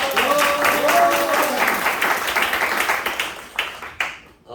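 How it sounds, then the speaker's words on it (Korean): An audience applauds at a lecture in a church hall, a full, steady round of many clapping hands with a voice briefly over it, tapering off toward the end. "박수 하겠습니다"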